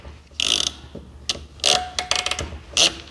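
Crimping pliers squeeze a ferrule onto an 18-foot wireline counter cable, giving a few short ratcheting clicks and mechanical snaps in quick bursts, close and fairly loud, with no talking.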